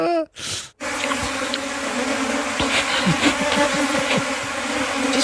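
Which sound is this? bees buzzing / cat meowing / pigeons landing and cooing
bees buzzing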